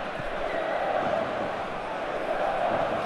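Stadium crowd noise from the PES 2021 football video game during a Dynamo Kyiv versus Kolos Kovalivka Ukrainian Premier League match, a steady broad roar throughout with a commentator's voice over it.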